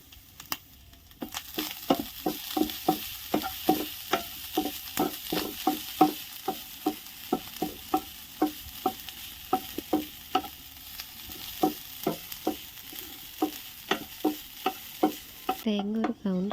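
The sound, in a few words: coconut being stirred and roasted in a pan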